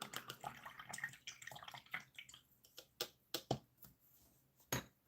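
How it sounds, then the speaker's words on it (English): A paint brush is rinsed in a water cup during a miniature painting session, giving a run of quick sloshing and tapping sounds followed by several sharp, separate knocks and splashes, close and fairly quiet. "Let me clean up my brush real quick here."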